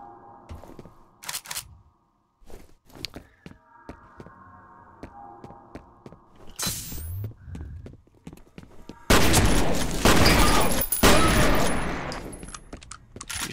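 Shotgun blasts from the video game F.E.A.R., a scattering of sharp reports followed by a dense, loud stretch of rapid gunfire and combat noise near the end.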